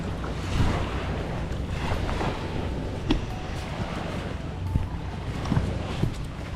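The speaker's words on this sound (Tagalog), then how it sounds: "Medyo malakas lang yung dagat" Rough sea waves crashing and churning continuously, with gusty wind buffeting the microphone and occasional sharper splashes, no voices.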